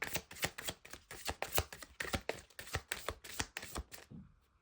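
A deck of oracle cards is shuffled by hand, a fast run of crisp papery riffles and slaps in steady rhythm, close and fairly quiet, tapering off at the end.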